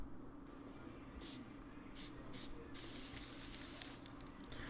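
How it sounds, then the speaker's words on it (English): A can of black spray paint hisses in several short bursts, then one longer spray and a few quick final puffs, close and fairly soft over a low background hum. "I sprayed black spray paint on the sides like that"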